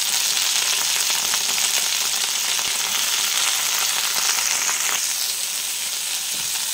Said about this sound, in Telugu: పుదీనా కూడా వేగుతుందండి.